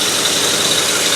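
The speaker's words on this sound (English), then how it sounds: "You can really hear the difference in the engine. It sounds the way it's supposed to." Ford Galaxie V8 idles steadily after timing and Holley carburetor adjustment, a loud, even, close engine drone with no talk over it.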